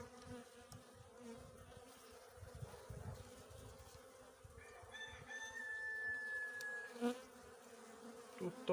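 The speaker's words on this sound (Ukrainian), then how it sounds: "цих 5 вуличок досить бджоли активні" Honeybees hum steadily around a horizontal hive with 80 mm walls, a soft continuous buzz with individual bees droning past, while a rooster crows faintly in the distance.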